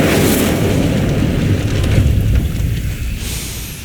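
An Incendio fire spell bursts in the Hogwarts Legacy video game near Honeydukes, a loud whooshing roar of flame that stays dense and steady, then slowly eases off without any speech.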